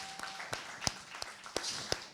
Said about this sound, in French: Écoutez encore un peu d'applaudissements pour moi,